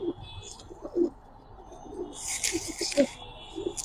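Giribaz and colouring pigeons in a loft give soft, low coos in short repeated bursts, with a brief rustle of wings or handling noise partway through.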